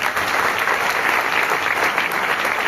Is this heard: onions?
no